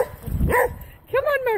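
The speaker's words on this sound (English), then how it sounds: "if we stand still for too long, Murphy starts barking" A dog barks in a couple of short bursts, loud and close, with a voice talking over and around it at a dog daycare.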